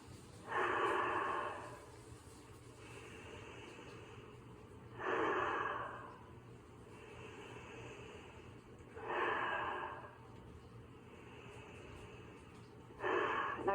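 Deep breathing during an energy healing exercise: four slow, audible breaths spaced a few seconds apart, each a soft rushing draw of air close to the microphone over a quiet room hum.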